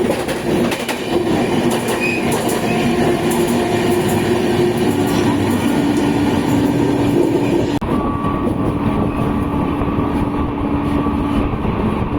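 A Duronto Express sleeper train on the Bangalore–Delhi Sarai Rohilla route running on rails, with a steady loud rumble, rattling carriages and squealing wheels heard from inside the coach and no talking.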